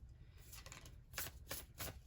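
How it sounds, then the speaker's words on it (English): Tarot cards riffle in a few short, close shuffles, a soft papery flutter in bursts with quiet gaps between. "Let's do a couple more shuffles."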